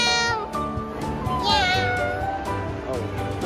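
A cat meows repeatedly, close and clear, its drawn-out cries rising and falling, while people talk softly underneath.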